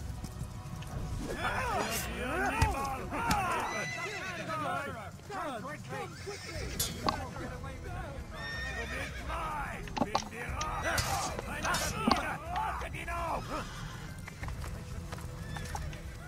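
A horse whinnies several times amid clip-clopping hooves in the video game Assassin's Creed, with people talking and shouting over the commotion throughout.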